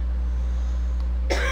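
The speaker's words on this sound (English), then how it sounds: "I've been coughing over here," A single short, sharp human cough near the end, close to the microphone, after a stretch of quiet steady background hum.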